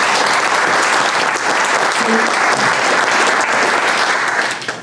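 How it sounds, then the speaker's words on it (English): Sustained audience applause for police officers and sheriff's staff at a public safety breakfast, steady and dense for about five seconds before starting to fade at the end. "I really think they deserve a round of applause."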